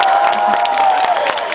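Applause and cheering rise from a large outdoor crowd at a candlelight rally in Gwanghwamun, a steady dense wash of clapping and voices filling the whole moment.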